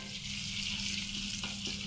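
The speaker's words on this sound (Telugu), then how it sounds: "గోంగూర పచ్చడిలో తాలింపు వేస్తున్నానండి" Tempering spices hit hot oil for gongura chutney, producing a steady, dense sizzle and crackle that holds unbroken throughout, close and fairly loud.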